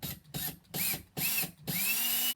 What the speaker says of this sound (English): we are just going to simply drill this in to the stud through that hole